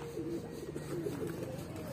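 A pair of Bodar pigeons coo softly and steadily in a low, rolling murmur, faint and close, with no one talking.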